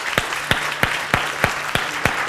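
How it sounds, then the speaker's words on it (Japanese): A church congregation claps in a steady, even rhythm, one sharp clap roughly every third of a second over a soft background murmur. "主に拍手を捧げましょう。"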